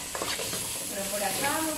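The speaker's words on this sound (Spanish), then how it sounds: "Pero por acá vamos a ir sofriendo, ¿no?" Shrimp rice ingredients sautéing in a pan, a steady close sizzle with stirring scrapes throughout and a faint voice in the background.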